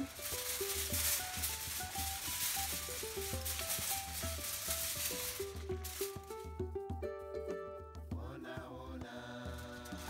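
Paella Valenciana simmers under an aluminium foil cover in a pan, giving a steady, dense sizzle and bubbling throughout, with some clinking, tonal kitchen sounds rising toward the end.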